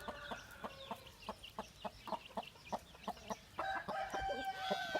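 Chickens cluck in a quick repeated series, and toward the end a young Indian Game (Aseel) rooster crows, nearby and moderately loud.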